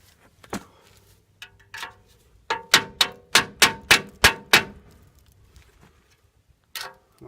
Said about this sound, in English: I don't think I have a big enough hammer.